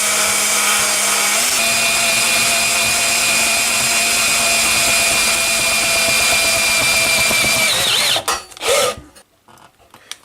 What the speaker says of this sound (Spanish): hacemos el primer taladro para el piloto. Centramos ahí la broca y despacio